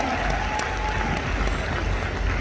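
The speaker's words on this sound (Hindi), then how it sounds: "जोरदार तालियां" A large crowd claps loudly and continuously, a dense, steady wash of applause throughout.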